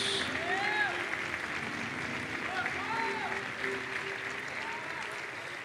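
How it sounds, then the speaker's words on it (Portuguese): Steady applause from a crowd at a church service fills the space, with voices rising over it in brief whoops and cheers throughout. "Fique de pé no seu lugar, aplaudindo a Jesus bem forte."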